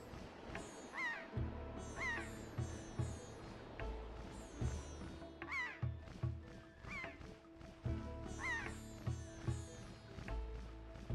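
A bird squawks repeatedly in The Legend of Zelda: Wind Waker, several short rising calls spaced every second or two over background game music.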